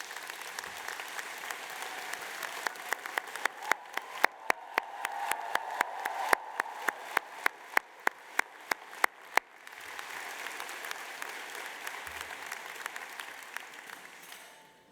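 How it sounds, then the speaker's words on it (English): Standing graduates and guests at a 2023 UAL LCC Design School graduation ceremony give a long round of applause, building to dense clapping with sharp individual claps standing out, then thinning. "stand up and thank them with a huge round of applause"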